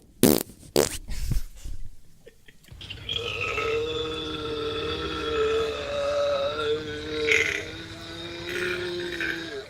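Several short sharp bursts open, followed by a long, drawn-out, tonal fart with a wavering, whistle-like pitch, loud and close, with no talk.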